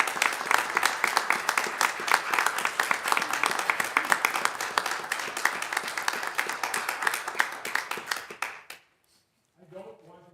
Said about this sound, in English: I think we should give a big round of applause to you.